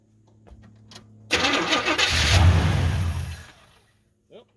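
A 1978 Chevrolet C10 with a 305 engine cranks and briefly catches near the listener, surging into a loud rough roar for about two seconds before dying away, with faint sounds before and after.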